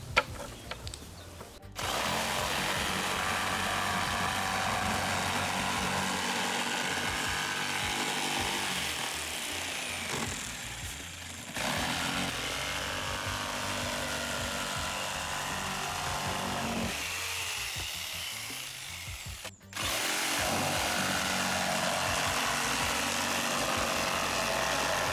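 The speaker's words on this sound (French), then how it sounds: "maintenant, je vais découper à la scie sauteuse" A jigsaw cutting a 2D boar-shaped shooting target out of a board, a loud continuous buzzing saw run with brief pauses near 2, 11 and 20 seconds before restarting, close up and with no talk.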